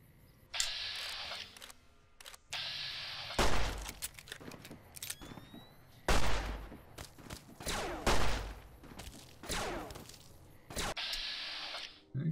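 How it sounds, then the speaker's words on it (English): Enemies fire bursts of gunshots at the player in Fallout: New Vegas, loud cracks arriving in several clusters spread across the stretch, with quieter game sounds in between. "They're actually shooting at us pretty badly."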